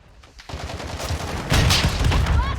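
Rapid automatic gunfire in Modern Warfare 2, starting faint and growing into dense, loud bursts of overlapping shots with a ringing metallic tail near the end.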